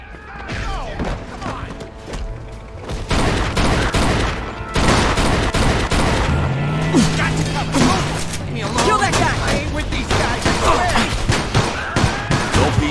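Heavy gunfire erupts in a shootout in the video game Mafia II, dense rapid bursts of shots and thuds that grow louder midway and keep going, with shouting voices mixed in.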